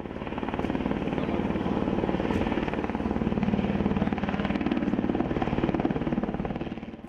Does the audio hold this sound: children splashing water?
no